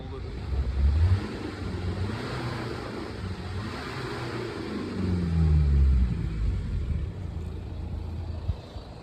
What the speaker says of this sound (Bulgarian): ауспуха е чист, двигателя работи доста добре